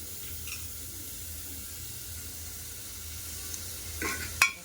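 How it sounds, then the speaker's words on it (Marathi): Chopped onions sauté in oil in a pan for plain sambar, giving a soft, steady sizzle and hiss throughout, with a few louder stirring scrapes and clinks toward the end. "हा थोडासा लाल होईपर्यंत परतूया."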